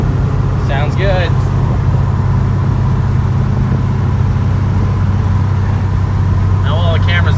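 Car engine idling with exhaust running through shorty headers into a 2-in-2 Magnaflow muffler, a steady deep low rumble throughout, loud and close, with brief faint chirps over it.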